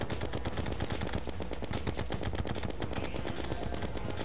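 Minishark gun in Terraria firing nonstop, a fast, even stream of rapid mechanical shots held steady and loud for several seconds.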